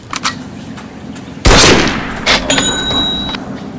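Gunfire in a shooter video game: a sharp, loud gunshot bursts in, then a few quieter shots and a fading rumble, with a high electronic tone trailing behind.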